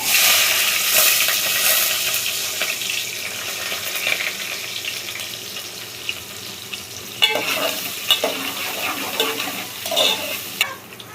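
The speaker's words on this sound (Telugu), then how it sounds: "పోపు అయిపోయిందండి ఇప్పుడు ఉల్లిగడ్డ పచ్చిమిర్చి కూడా వేసేసుకుందాం" Sliced onion and green chillies hit hot oil that already holds tempering spices, dried red chillies and cumin, giving a loud, dense sizzle that settles gradually, broken later by spoon scrapes and sputtering pops.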